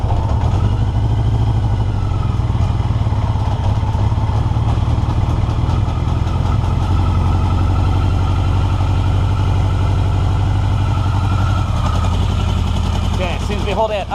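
A 1982 Yamaha XJ650 motorcycle engine idling after a first start, loud and close with a steady low rumble and mechanical clatter running without a break, a voice briefly heard near the end.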